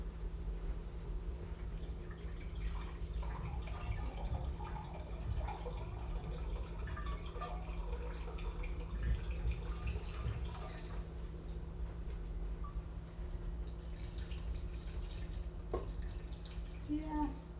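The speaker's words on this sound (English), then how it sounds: "I'm adding a full 2 cups of liquid here." Water runs and splashes into a soup pot as about two cups of liquid are added to onion, garlic and tomato for a butternut dal soup. It is a faint, continuous trickling that lasts throughout, with a low hum underneath.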